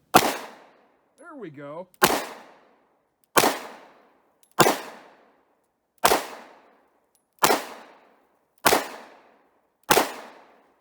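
A Romanian TTC Tokarev pistol in 7.62x25mm fires eight loud, sharp shots at an outdoor range, each a single crack with a quick decaying tail, spaced about one to two seconds apart; someone speaks briefly between the first two shots.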